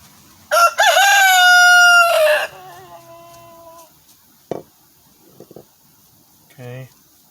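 A rooster crows loudly and close by in one long, drawn-out call, followed by a few short clucks and a brief voice-like sound in otherwise quiet surroundings.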